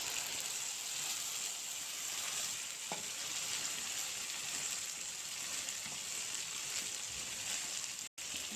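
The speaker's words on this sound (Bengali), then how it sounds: "মশলাটা দিয়ে দেব।" Onions and spices fry steadily in a pan for chicken curry, making a continuous, fairly quiet hiss with one faint clink partway through and no speech.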